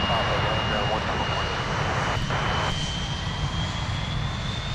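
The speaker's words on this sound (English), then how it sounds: "Now, that is what you call super smooth departure." Jet airliner taking off at Minneapolis–Saint Paul airport, a loud continuous engine roar with a steady high whine, heard at a distance alongside faint radio chatter.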